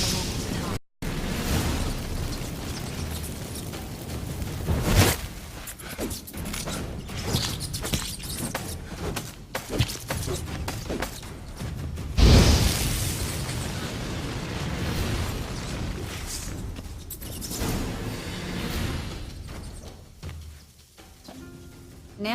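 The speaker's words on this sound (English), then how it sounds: "Get ready for some magic fireworks." Magic fireworks from incense crackle and burst in The Witcher 3, a dense roaring run of blasts and pops with a sharp boom near the middle, loud and sustained, while voices talk over parts of it.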